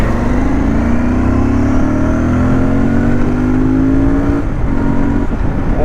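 A Royal Enfield Interceptor 650 motorcycle accelerates hard and steadily, its engine note climbing smoothly in pitch through the revs, loud and close throughout, with a brief dip near the end as it shifts and pulls on.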